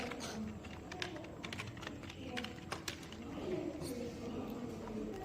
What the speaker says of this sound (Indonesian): Setelah kita mengetik sudo su, masukkan password kita, enter.